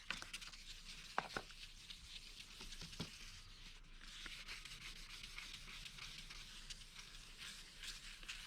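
Sandpaper rubbing a plastic headlight in circular motions, a faint, steady scratchy rasp with a few small ticks, close and quiet with no talking.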